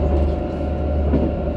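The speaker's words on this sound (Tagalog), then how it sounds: "Nasa train na kami." A steady, low rumble from inside a moving train on a rainy day, a dense, continuous drone of rolling cars without talk.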